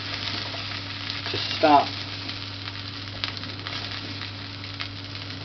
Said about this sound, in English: we're just trying to toast that quinoa just to get it to start crumbing up